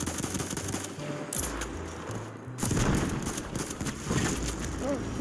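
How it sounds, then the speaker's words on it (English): Enemy machine gun fire in the video game Battlefield 1, rapid bursts rattling steadily through the whole stretch amid battle noise, with players talking over it. "There's an enemy machine gun."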